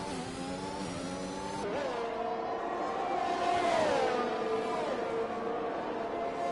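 Formula 1 race car engines from F1 2021, racing at Bahrain in an online league, roar at steady high pitch with harmonic whine, rising and shifting as a car passes around the middle, loud and continuous with no talk.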